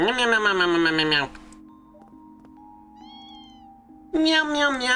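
Cat meowing jingle from the video game Trails through Daybreak II: a loud melodic meow at the start, a quiet tonal interlude with soft chimes, then another loud sustained meow near the end.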